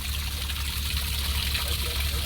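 Water from a natural artesian well flows in a steady, loud, rushing stream, a continuous broadband wash with no pauses.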